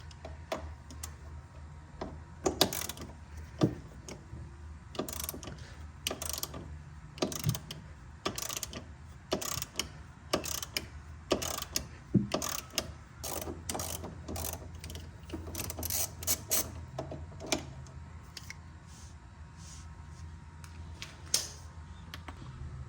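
A wrench ratchets in repeated rapid clicking bursts, close and fairly loud, with short pauses between strokes as a top suspension bolt on an Audi A6 Quattro is worked loose.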